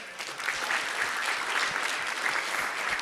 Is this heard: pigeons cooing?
no